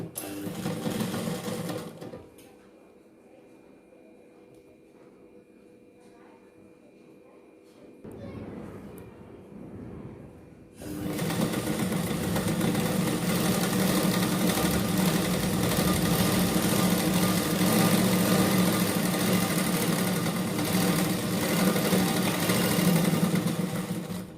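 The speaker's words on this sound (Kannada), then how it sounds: "ನಿಮಗೆ ಈ ರೀತಿ ಇಟ್ಕೊಂಡು ಇವಾಗ ರಾಂಗ್ ಸೈಡಲ್ಲೇ ನಾವು ಸ್ಟಿಚ್ ಮಾಡ್ಕೊಳ್ತಾ ಇದ್ದೀವಿ." A sewing machine runs steadily on the wrong side of the fabric as a seam is stitched, a continuous mechanical whir filling the second half after a quieter stretch with light handling sounds.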